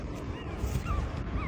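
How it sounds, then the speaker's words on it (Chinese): Newborn stray puppies, eyes not yet open, give faint high whimpers and yips over a low background rumble. "我听到狗叫了。"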